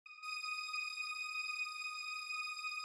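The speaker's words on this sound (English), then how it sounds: "A high string, also from Avenger" A single high sustained string note from the Avenger synth holds steady and quite faint, with no other sound around it.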